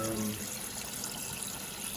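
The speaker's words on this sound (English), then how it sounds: "The toilet's filling up now" A toilet tank refills through a float valve, a steady close hiss and trickle of running water that continues evenly throughout, with a brief tonal hum at the start.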